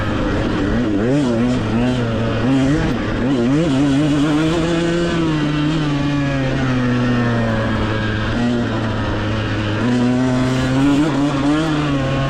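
A two-stroke dirt bike racing off-road at a Texas ranch, its engine loud and close as the rider throttles over whoops, the raspy pitch rising and dipping with each bump before settling into a sustained high rev.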